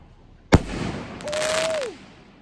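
Roman candle fireworks set off outdoors on New Year's, one sharp nearby launch pop followed by a whistling, crackling burst with a rising-falling tone, loud and close.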